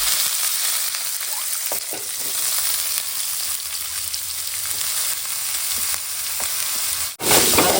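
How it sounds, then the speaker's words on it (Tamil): Onion with bay leaf, cinnamon, cloves and fennel fries in oil, a loud continuous sizzle with occasional stirring scrapes, cutting off briefly near the end. "இலை பட்டை லவங்கப்பூ பெரிய சீரகம் இதை போட்டுடுறேன் வெங்காயம் கருப்பில் போட்டு"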